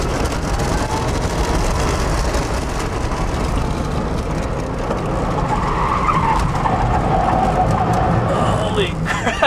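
A Tesla electric car accelerating hard at a test-drive event in Miami, Florida, a loud steady rush of tire and road noise inside the car, with occupants talking over it.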